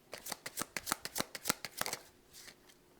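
Oracle cards being shuffled by hand in a quick run of about a dozen crisp riffling snaps, close and clear, easing into a softer sliding rustle at the end with no talking.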